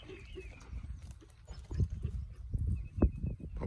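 Horse hooves clip-clop during a training session, a close run of irregular thuds and knocks that grows louder partway through.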